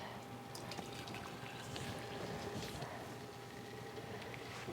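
Apple juice runs out of a steam juicer's hose into a container as a steady, faint liquid trickle and splash with no break.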